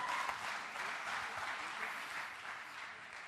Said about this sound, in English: All right, big red applause for Canada.